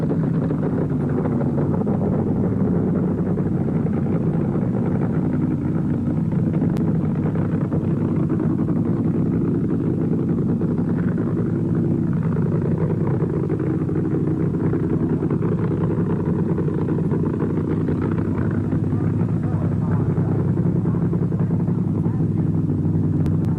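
A Ford 427 SOHC drag racing engine approaching on the strip, a steady loud low rumble that holds throughout without a clear rise or individual revs.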